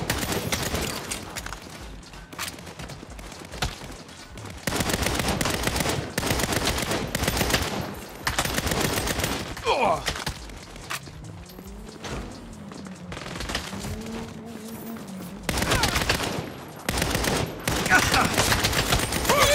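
Repeated bursts of gunfire from the Saints Row game, loud and sharp, broken by short gaps and quieter stretches of background sound.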